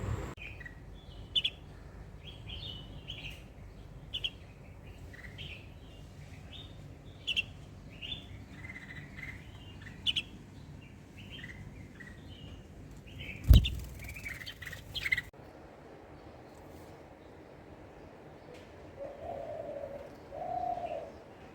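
Small birds chirp and coo outdoors in a steady stream of short calls, joined by a few louder pecks or taps and a sharp knock midway, with no talking.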